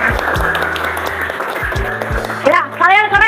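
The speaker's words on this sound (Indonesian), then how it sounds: "Oke, tepuk tangan buat kita semua." Students in a seventh-grade classroom clap together in a rhythmic beat, steady claps close by, with a teacher's voice breaking in near the end.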